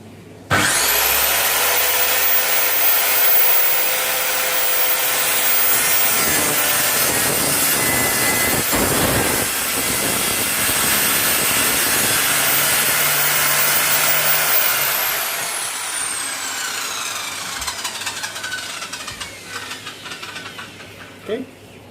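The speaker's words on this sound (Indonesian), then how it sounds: "kita coba potong dengan menggunakan gergaji ini" A Ryu RCS 185-2 circular saw whines up to speed, cuts through wood for a long stretch with a loud, steady scream, then spins down.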